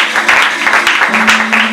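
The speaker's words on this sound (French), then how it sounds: "Est-ce que tu peux acclamer le Seigneur?" A church congregation applauds and cheers, with dense, steady clapping filling the room and voices rising within it.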